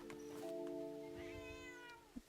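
Cat in a video game giving a drawn-out, tonal meow followed by a second rising meow, clear and close with no talking over it.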